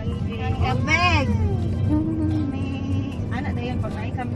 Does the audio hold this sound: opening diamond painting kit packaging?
no